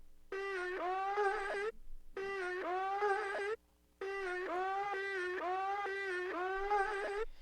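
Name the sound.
keyboard synth without effects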